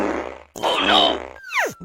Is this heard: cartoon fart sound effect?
yes